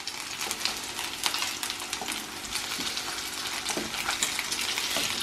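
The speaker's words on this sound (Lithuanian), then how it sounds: "Kotletai taip puikiai kepa" Chicken cutlets sizzle steadily as they fry in a pan, a continuous close crackle of hot oil with occasional sharper pops, and no voices.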